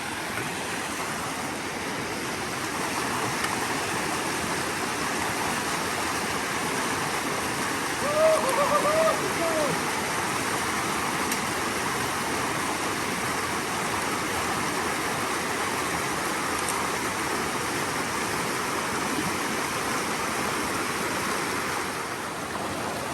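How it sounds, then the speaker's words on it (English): A strong creek runs over a ford on an out-east creek along the North Country Trail, giving a loud, steady, close rush of flowing water that lasts throughout with no clear talk. "Yeah, it's an out east creek."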